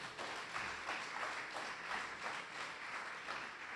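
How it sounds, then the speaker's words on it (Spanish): Faint, distant applause from a church congregation, a steady wash of clapping that swells slightly in waves over a few seconds. "Bríndele un aplauso al Señor"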